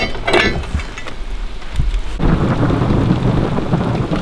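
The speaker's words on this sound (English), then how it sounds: "Ah, thunder and lightning." Heavy rain pours steadily at a remote Crown Land campsite during a grouse-hunting trip, with a deep rumble of thunder rolling through the downpour at close range.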